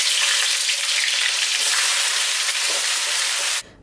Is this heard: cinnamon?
yes